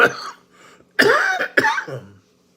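Three short, sharp coughs in a row, close and fairly loud, with brief pauses between them.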